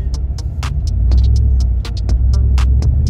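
A new Ram Rebel pickup truck engine runs with a deep, steady low rumble and throb, close and loud, with a few faint sharp clicks and rustles on top.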